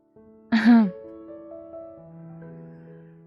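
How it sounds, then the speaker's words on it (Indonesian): A single short throat clearing sounds close up, followed by soft sustained background music tones. "Suara seseorang yang berdeham membuat Lingga dan Banyu sedikit terkejut."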